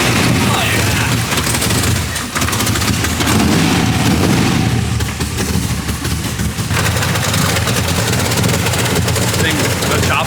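Lumpy, choppy idle of an LS V8 swapped into a BMW E46, loud and close, rumbling steadily throughout with people talking over it.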